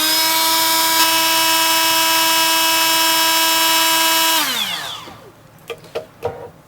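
A Milwaukee M12 FUEL 1/4-inch right angle die grinder screams steadily at speed 4 for about four seconds, then spins down with a falling whine, followed by a few faint clicks and handling knocks.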